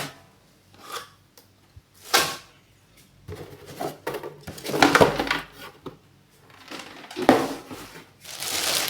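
Two Rockville 10-inch woofer speakers being unpacked from their box: intermittent rustling, crinkling packaging and bumps of handling at close range, in irregular bursts with quiet gaps between them.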